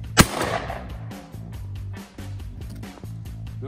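A single sharp rifle shot fired at a target cracks loudly near the start, followed by a brief echo and a steady background of music.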